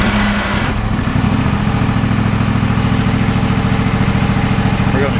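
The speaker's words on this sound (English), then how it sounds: "if I start the mower" A 1995 RC Wizzard radio-controlled lawn mower's small engine kicks into life after a second of quieter sound, then idles steadily with a loud, even low throb right up close.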